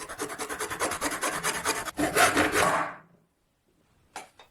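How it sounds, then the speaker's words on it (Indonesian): A hand saw cuts through plastic pipe along a strip of tape, fast rhythmic rasping strokes close up, then the sawing stops and a brief scrape follows after a pause. "Gergaji persis di sepanjang tepi selotip."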